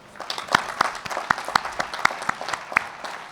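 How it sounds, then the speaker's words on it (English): Audience applause for a graduating class at the 2025 Darden graduation academic regalia ceremony, a modest crowd clapping with distinct individual sharp claps standing out over a softer continuous patter. "So please join me in giving them a special round of applause."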